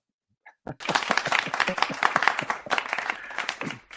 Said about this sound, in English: I think it's applause-worthy, yes.